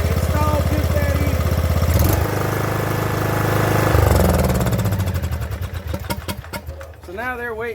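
Small lawn mower engine, newly fitted with a replacement carburetor, idling steadily at low speed with an even pulsing rhythm, close by, a couple of brief rises in pitch near the end.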